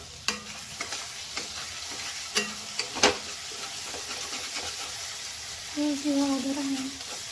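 A spoon stirs yogurt into paneer tikka biryani masala in a pan, with scattered soft scrapes and taps and a brief hum of voice near the end.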